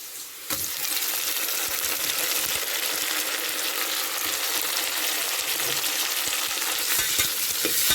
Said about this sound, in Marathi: टोमॅटो छान मऊ होईपर्यंत शिजवूया।